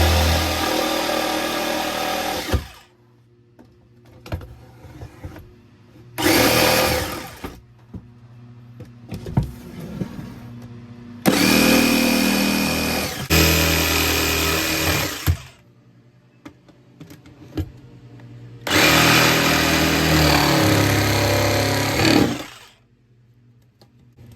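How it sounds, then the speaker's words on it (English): A jigsaw trims the small edges of a board in several loud buzzing bursts of a few seconds each, separated by quieter pauses filled with handling clatter, close up and with no talking. "I saved the little edges to be cut by this jigsaw"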